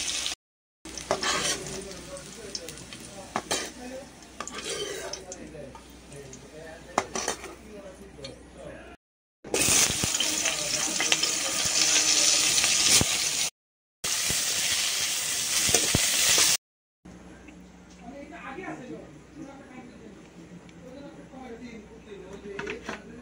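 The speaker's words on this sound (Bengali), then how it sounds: "আলুটা ভাজতে একটু সময় লাগবে, পটলটা তাড়াতাড়ি হবে।" Potatoes and pointed gourd fry in a pan with stirring and clinking of a utensil. A steady sizzle comes in bursts between short silent gaps, and a voice talks over parts of it.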